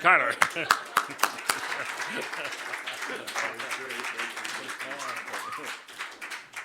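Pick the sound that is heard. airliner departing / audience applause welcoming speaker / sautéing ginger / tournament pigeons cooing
audience applause welcoming speaker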